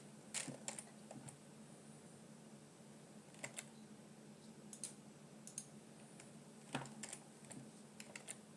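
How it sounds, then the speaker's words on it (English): Left Control and T pressed on a computer keyboard while flying the F-14B in DCS, a few scattered quiet clicks in small clusters over a low steady fan-like hum. "we're going to hit left control and T on the keyboard"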